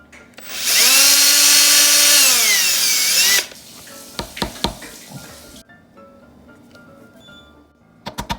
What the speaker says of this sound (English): I'm gonna drill it a little bit bigger